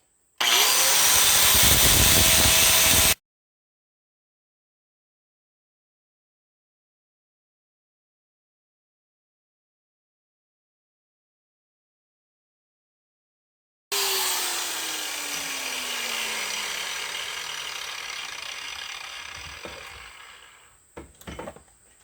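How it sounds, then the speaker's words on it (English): Angle grinder smoothing a machined motor mount surface for a Hercules engine on a Cletrac E-62 crawler, two loud bursts of grinding separated by a long silent gap, the second burst gradually winding down. "we're just going to hit this with the grinder and call it good enough"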